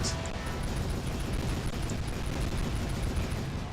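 Dense, continuous rumble of gunfire and explosions in the Wii game Jurassic: The Hunted, loud and steady throughout with no gaps or voices.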